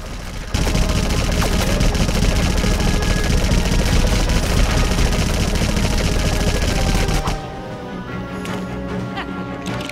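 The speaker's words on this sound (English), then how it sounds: "Let's just keep on shooting." Rapid gunfire from Lego Batman gameplay, a loud sustained barrage of shots and clattering impacts for about seven seconds, then dropping to a quieter busy background of game effects.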